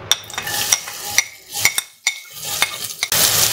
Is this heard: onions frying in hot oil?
yes